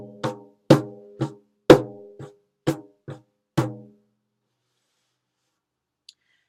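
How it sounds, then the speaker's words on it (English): Seven short, crisp flicks of a fingertip against a frame drum, each a quick brushy strike with a little ringing tone, spaced unevenly over about four seconds, then silence with one faint tick near the end. "Like it almost has some of that brush sound to it when you flick."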